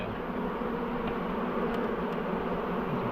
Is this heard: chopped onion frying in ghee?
no